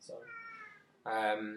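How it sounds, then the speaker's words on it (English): A house cat meows in a strong, harmonic burst near the end, preceded by a softer meow-like sound, with someone speaking briefly close by. "That's my cat"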